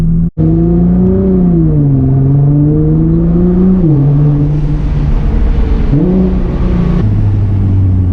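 A Nissan GT-R Nismo engine drones loudly from inside the car while driving, its steady mid-pitched tone rising and dipping with throttle and gear changes, and a short click near the start.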